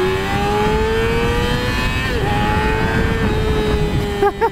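A Yamaha motorcycle accelerates hard, its engine whine climbing steadily in pitch through the gears with brief dips at each shift, loud and close from the rider's position, with a few knocks near the end.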